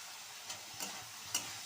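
Mung dal pulao being stirred in a pot after salt and sugar go in, a low sizzle with a few sharp spoon scrapes and taps, close by with no talk.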